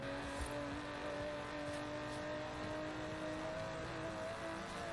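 An Aston Martin DB11 in the racing game Forza Horizon 4 holds a constant, faint engine drone with a steady pitch, smooth and unbroken throughout with no speech.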